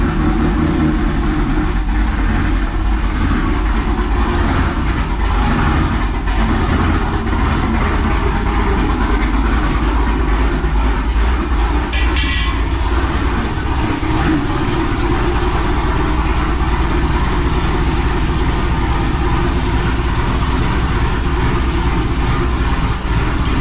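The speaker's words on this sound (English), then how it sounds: "I can at least get you guys a cold start to see how it responds to this intake" A cammed Camaro with a new intake idles after a cold start, a loud, close, steady engine rumble that runs unbroken throughout with no voices.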